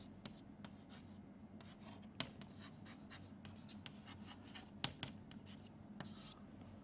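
A p-n junction diagram is drawn by hand during a lecture on heterojunctions, giving faint scratchy pen or chalk strokes with soft taps and pauses in a quiet room.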